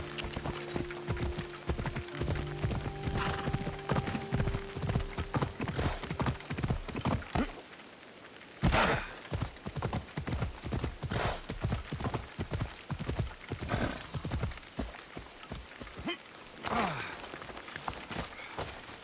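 A horse gallops in the video game Assassin's Creed Odyssey, its hooves beating a fast, steady clip-clop rhythm up close, broken by a short pause midway before the pounding resumes.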